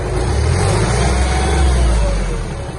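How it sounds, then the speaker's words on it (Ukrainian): A Kubota GB-200 mini tractor engine revs loud and close with a steady, strong drone that holds through the throttle-up and eases slightly at the end. "Можемо, звісно, дати газу."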